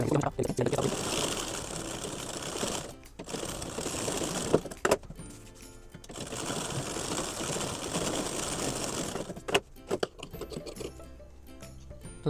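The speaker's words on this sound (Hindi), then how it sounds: "इसको आपको किनारे किनारे सिलाई लगा करके पहले चिपका लेना है।" Sewing machine stitching along the edges of a blouse's separated lining and fabric to hold them together, running in two long steady bursts with brief pauses and handling noise between them.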